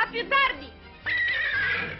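A cartoon horse gives a clear, drawn-out whinny that follows a short spoken line, with the neigh carrying loudly through the second half.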